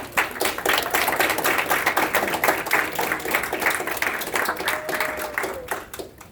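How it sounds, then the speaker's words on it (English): Audience applause at a public speaking event fills the room with steady, dense clapping that holds for about six seconds and fades slightly at the end. "So a round of applause for Rocky, who's going to introduce Michael"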